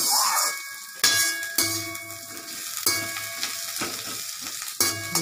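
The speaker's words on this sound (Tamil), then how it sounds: "இது பாருங்கள், இந்த மாதிரி நல்லா வதக்கிட்டே இருக்கணும்" Ridge gourd peel sautéing in a pan, a steady sizzle and fry broken by sharp scrapes and clinks of a spatula stirring against metal every second or so.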